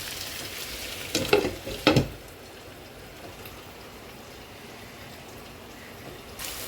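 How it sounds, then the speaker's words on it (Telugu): Raw cleaned crabs tipped into a hot pan with onions and garam masala give a brief burst of sizzle and stirring, then the frying settles into a faint, steady hiss. "ఇప్పుడు శుభ్రంగా కడిగి పెట్టుకున్న పీతల్ని ఇందులో వేసేద్దాం. మంచి గుడ్డు పీతలండి బాబు. ఇలా కలుపుకొని ఒకసారి మూత పెట్టేసుకుందాం."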